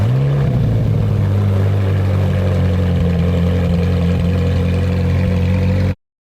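A Ferrari 458 V8 starts and idles with its rear silencer removed, a loud, deep, steady drone with a brief flare at the start, close and unbroken until it cuts off abruptly.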